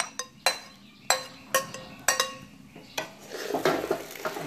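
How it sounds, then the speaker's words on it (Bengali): Beef is added and stirred into fried rice in a metal pot for beef biryani. A spoon strikes the pot in sharp, irregular clinks, followed by softer scraping and stirring, all fairly quiet and close. "চালটা ভাজা হয়ে গেছে, এখন মাংসগুলা দিয়ে দেব"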